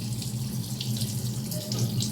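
Water runs steadily from a tap into a sink, a constant close rushing splash, brief and uninterrupted.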